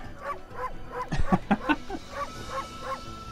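Short yips and barks of a cartoonish dog in the video game Okami, about eight quick calls in a steady rhythm, moderately loud over a faint game backdrop.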